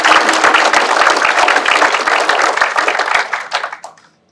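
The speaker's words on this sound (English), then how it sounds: "Can we have a round of applause for Fiji Water, please?" An audience gives a round of applause at a leadership event honoring Fiji Water, with dense, steady clapping from a crowd that thins toward the end and stops.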